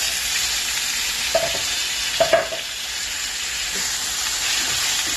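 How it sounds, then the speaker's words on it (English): Garlic, onion and tomatoes fry in about three spoons of oil, giving a steady, loud sizzling hiss with a few clanks of a spoon stirring the pan and no voices. "So in 3 spoons of oil we are frying the garlic and the onion."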